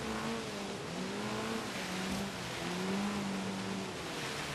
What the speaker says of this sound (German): damit wir auch so ein bisschen aus dem Auspuff mal hören. Von unserem neuen Sportauspuff